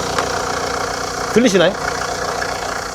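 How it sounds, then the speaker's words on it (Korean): A used Kia Carnival diesel engine idles with a steady, droning low resonance. A short spoken question rises briefly over the constant hum. "요게 이 카니발 디젤 엔진의 특유의 공명음인데요."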